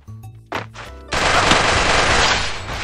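Gunfire in the mobile game Garena Free Fire Max: a couple of sharp shots after a musical game tone, then a loud, sustained burst of rapid automatic fire that runs to the end, with no speech.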